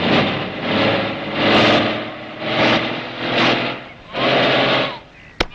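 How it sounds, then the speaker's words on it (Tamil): A small vehicle engine runs and revs in repeated surges without the vehicle moving, loud and close, with people talking over it and a sharp click at the end. "வண்டி நவரவே மாட்டேங்குது."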